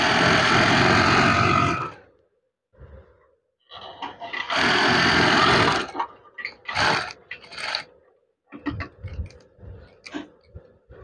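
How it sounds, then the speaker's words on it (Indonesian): A sewing machine stitches swag curtain fabric in several bursts, the first long and loud, the later ones shorter and choppier, separated by silence and small handling clicks. "Kemudian jahit. Oke. Jahit saja."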